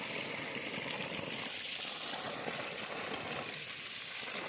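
Water gushes steadily from a 2-inch delivery pipe driven by a 900 W, 60 V solar BLDC pump on a farm, a continuous broadband hiss and splash held at even loudness throughout.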